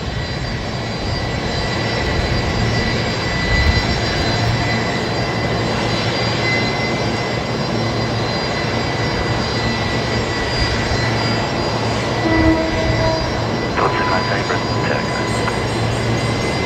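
An aircraft at Brisbane Airport during single-runway operations gives a loud, sustained engine roar with a steady tonal whine, rising slightly in places as it continues.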